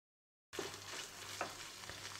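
A sandwich filling being mixed in a pan with crushed red chillies, mixed herbs and tomato ketchup: soft stirring scrapes over a faint sizzle, starting after a half-second of silence, with a couple of light clicks of a utensil.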